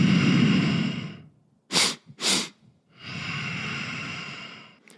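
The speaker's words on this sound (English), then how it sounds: "a physiological sigh will sound like this, breathing through the nose." A person demonstrates a physiological sigh by breathing through the nose: one long breath, then two quick sharp sniffs in a row, followed by a slow, drawn-out exhale, all close and alone without talk.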